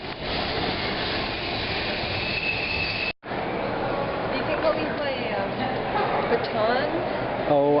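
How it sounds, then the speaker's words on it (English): Passenger train on a short-haul run to Vancouver, Canada, with a steady loud rumble and rolling noise throughout, a brief drop near the midpoint, and faint squeals and clanks later on. "Yeah, we're on the train."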